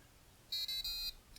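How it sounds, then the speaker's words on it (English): The small electronic buzzer of an Elecrow ThinkNode M1 Meshtastic transceiver gives three quick high-pitched beeps in a row, close and clear in an otherwise quiet room. "Does have a little buzzer."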